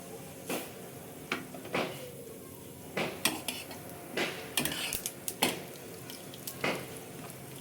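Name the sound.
sesame seeds added to hot oil with urad dal, sizzling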